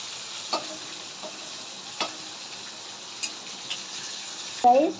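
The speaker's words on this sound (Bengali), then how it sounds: "এখন আমি চিংড়িগুলো ভালো করে ভেজে নিই।" Prawns fry in a pan with a soft, steady sizzle. A few light utensil taps sound at intervals, and a brief clatter comes near the end.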